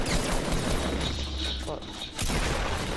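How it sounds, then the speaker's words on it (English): Gunfire in Fortnite as a player is shot at: a dense, loud run of overlapping shots and mechanical clatter fills most of three seconds, with a brief dip before the firing resumes. "No, that's me getting shot at."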